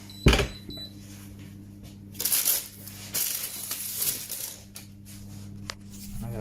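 An oven door is opened and shut during sourdough baking, giving a sharp thump near the start and then scraping, rattling handling noises with a steady low hum underneath.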